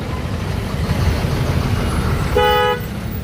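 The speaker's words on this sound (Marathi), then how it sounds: "आता हा पनवेलपर्यंत फुल ट्रॅफिक भेटेल आपल्याला" Heavy road traffic on a cement road near a truck overturned under a bridge: a constant low rumble of engines with one clear car horn honking briefly near the end.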